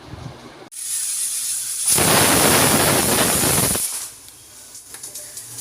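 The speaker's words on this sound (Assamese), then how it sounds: "প্ৰেছাৰটোৱে এটা হুইচেল মাৰিলে" Pressure cooker whistling while cooking chana dal: a steady high hiss runs throughout, swelling into a loud, sustained blast for about two seconds in the middle before easing back to a softer hiss.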